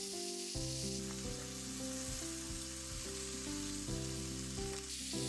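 Pork and spring onion grill over low heat in a pan, giving an even, continuous hiss of fat under a prominent melodic music track, with no voices.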